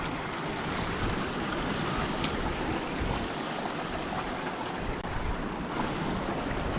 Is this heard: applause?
no